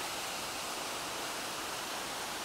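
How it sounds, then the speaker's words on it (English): Silver Creek waterfall on the John Muir Trail roars as a dense, steady broadband rush, constant and unbroken, heard nearby without voices. "So here we are at Silver Creek, the waterfall"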